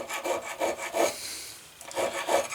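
Sandpaper wrapped around a metal file rubs back and forth across leather in a leathercraft shop, giving about six rasping strokes in a steady rhythm with a brief pause midway, close and moderately loud with no talking.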